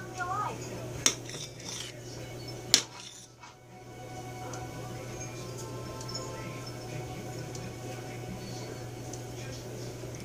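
A spoon stirs thick flaxseed gel in a pot, with two crisp clinks against the metal followed by a steady, soft, sticky scraping. A voice is faintly present underneath.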